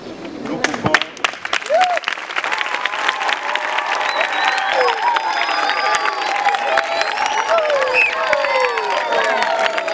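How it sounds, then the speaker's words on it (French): A gathering claps continuously to welcome a guest, with cheers, whoops and shouted voices rising over the sustained, fairly loud applause. "Nous allons le recevoir avec des applaudissements."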